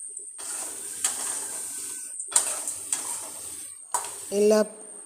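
Fried sardines are stirred into pickle masala with scraping strokes that come in three bursts, each over a faint sizzle, plus a short tonal sound near the end.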